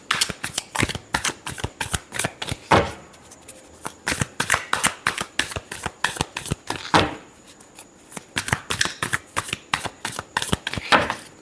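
Tarot cards shuffled by hand, a fast continuous riffle of crisp papery flicks and slaps that stops briefly a few times and then resumes, heard close up with no talk over it.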